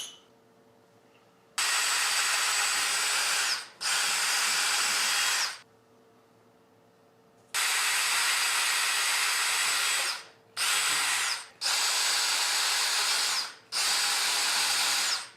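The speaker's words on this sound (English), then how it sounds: "After we drill those holes" Power drill boring holes in a plastic car front lip, with five or six loud whirring bursts of a second or two each, separated by quiet pauses, close up and with no talk.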